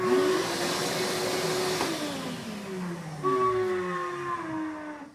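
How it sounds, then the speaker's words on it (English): A household vacuum cleaner switches on by accident beside a model railroad layout, its motor whining steadily and loudly with a shifting pitch, dipping and rising again partway through, with no one talking over it. "the vacuum turned on. I must have stepped on it."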